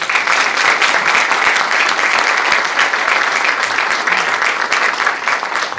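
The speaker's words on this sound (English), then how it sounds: "I want to give them an applause" Steady, dense applause from a crowd at an LGBT Pride Month program, loud and continuous throughout without pause.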